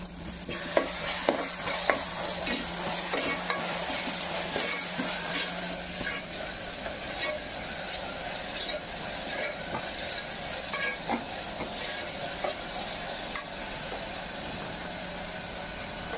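Ginger garlic paste frying with onions in a pan for a meal maker tomato curry, a continuous loud sizzle broken by repeated scraping stirs of a spoon against the pan, with no voices.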